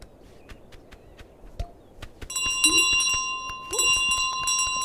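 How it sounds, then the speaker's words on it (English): A bell rings out repeatedly with bright, sustained metallic tones in Untitled Goose Game, loud over light footstep-like taps and faint background ambience. "where's the bell? Oh, there's the bell."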